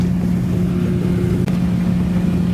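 A rebuilt Triple S gravity table runs with a steady, smooth motor hum and a constant low drone, with one brief click midway and no talking.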